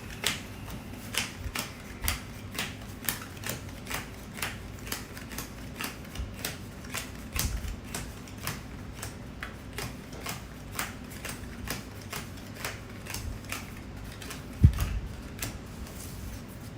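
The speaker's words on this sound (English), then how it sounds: "Let's just shuffle it." A deck of playing cards being shuffled, a steady run of quick, crisp riffling clicks over roughly seventeen seconds, fairly close and quiet, with one sharper knock near the end and no talking.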